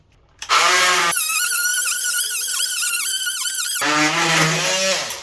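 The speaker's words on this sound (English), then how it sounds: "your blade actually starts to cut through the pipe" An oscillating multi-tool with a new blade cuts through a pipe, giving a loud, sustained, tonal squealing whine. The pitch wavers and shifts as the blade bites in, with a brief break partway through.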